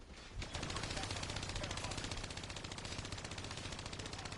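Rapid, sustained bursts of automatic fire from a remotely hijacked turret in a video game, loud and dense throughout with a steady rattling rhythm after a brief lead-in.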